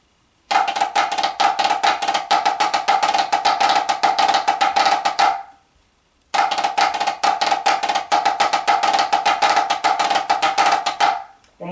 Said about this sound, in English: we start out with flam drags into the other rudiment figure.